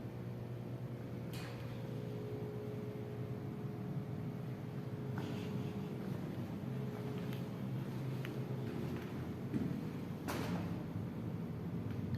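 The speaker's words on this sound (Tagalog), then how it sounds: "Yan po ang motor pump ng buong compound building." A building's water motor pump drones continuously in a low, even hum with faint mechanical rattles, a few soft clicks and knocks over it.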